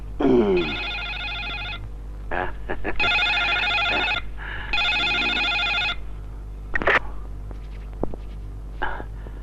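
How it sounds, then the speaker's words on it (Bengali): A telephone bell rings in three long bursts with short gaps, fairly close and loud, followed by footsteps and handling sounds as someone goes to answer; a brief voice is heard early on. "মনে হয় মন্ত্রী সাহেবের ফোন"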